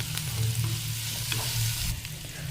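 Vegetables frying in a pan with ginger garlic paste, turmeric and spices for vegetable khichuri, a continuous close sizzle broken by a few scraping stirs.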